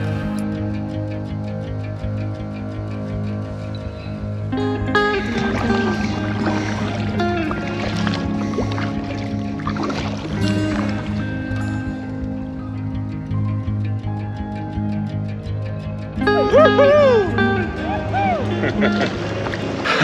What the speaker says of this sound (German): wenn die Boote hier vorbeiballern, das ist echt krass